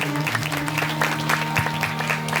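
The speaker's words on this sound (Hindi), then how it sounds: "आप सभी लोग जोरदार ताली से स्वागत करते रहिए" An audience at a Shri Ram Katha religious gathering claps steadily and warmly to welcome and honour the presiding preacher, a dense wash of applause over a sustained musical drone with faint voices beneath.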